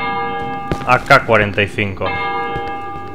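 Church bell ringing in the Cry of Fear horror video game: a sustained metallic bell tone with lingering overtones throughout, while someone speaks over it in the middle.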